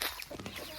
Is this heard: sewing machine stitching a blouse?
no